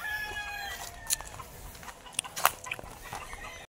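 White Kelso cross gamefowl roosters on a game farm crow and cluck in short bursts at a moderate distance over steady outdoor background noise.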